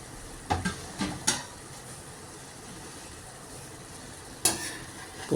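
Fried paneer stirred into bubbling pulao masala in a pan, with a low simmering sizzle under a few sharp scraping strokes of a spoon, clustered early and again near the end, no voices.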